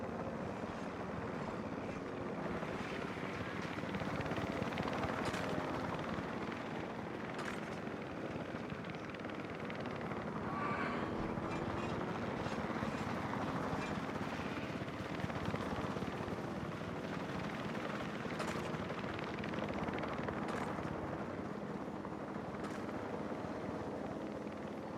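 In the video game Jurassic World Evolution 3, a helicopter flies with a steady, droning rotor rumble that stays continuous and moderately loud for the whole stretch, without voices.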